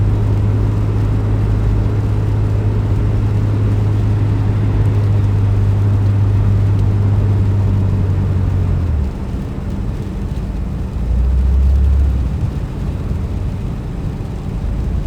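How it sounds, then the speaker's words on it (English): A car engine drones low and steady while driving the streets of Little Rock during a February sleet storm, mixed with road noise; the hum eases slightly past the nine-second mark, then briefly swells again. "If you listen closely to my engine, you can probably hear my driving techniques."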